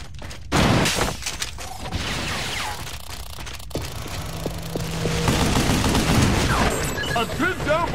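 Heavy laser cannon fire in Vanquish, a sustained crackling barrage of blasts mixed with mechanical clanks, scraping and game effects, loud and continuous throughout.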